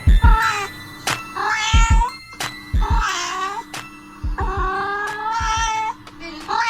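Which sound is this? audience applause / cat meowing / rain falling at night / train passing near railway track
cat meowing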